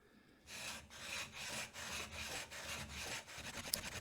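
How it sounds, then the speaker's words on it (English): A 6000 grit water stone is flattened by rubbing it against the 220 grit side of a flattening stone, producing rhythmic back-and-forth gritty scraping strokes, close and steady, about two per second with no voices. "we are going to use the finer 220 grit side of the flattening stone"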